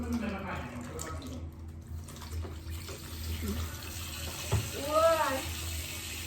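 A baby bottle nipple rinsed under a running kitchen tap, with a steady stream of water splashing into the sink at low volume and a voice talking over it.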